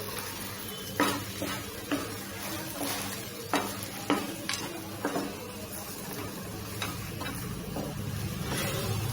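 Poha halwa cooking in ghee with roasted cashews gets stirred in a pan, with repeated scraping strokes against the metal over a soft continuous sizzle, close by and without voices.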